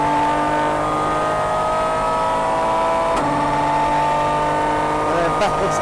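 An Aston Martin DBR9 race car at Paul Ricard, its engine loud and close in onboard view, a droning rising pitch with a gear change partway through, while a voice talks over it.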